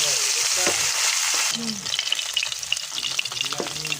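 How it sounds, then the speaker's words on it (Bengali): Small bata fish fry in hot oil for a fish curry with pumpkin bori, giving a steady loud sizzle. A few clinks of a utensil stirring in the pan are heard, and no one speaks. "বাটা মাছ ভেজে নিব।"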